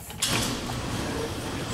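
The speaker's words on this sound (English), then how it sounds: "Let's see if this door opens." Farm building door being opened, a short mechanical creak and sliding scrape heard close up, brief and fairly loud against quiet background.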